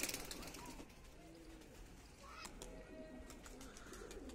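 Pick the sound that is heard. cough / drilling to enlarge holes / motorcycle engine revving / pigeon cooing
pigeon cooing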